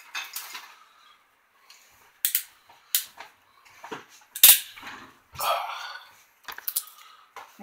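A blade cuts into the cardboard box of an MXS toy figure with motorcycle, making sharp, irregular scraping and tearing sounds close up, separated by short quiet gaps.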